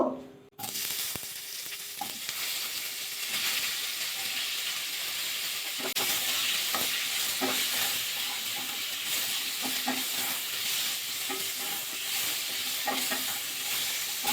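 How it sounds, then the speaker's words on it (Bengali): Cauliflower florets frying in oil with salt and turmeric for a mixed winter vegetable dish, a steady close hiss and sizzle filling the whole stretch, with small clinks and stirring scrapes now and then. "এবার ফুলকপিগুলো ভাজা করে নেব।"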